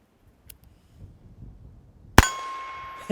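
A single sharp rimfire revolver shot with a high-velocity Stinger round cracks after a quiet stretch, ringing with a metallic tail, followed by another faint knock.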